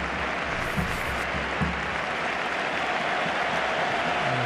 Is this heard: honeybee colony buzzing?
no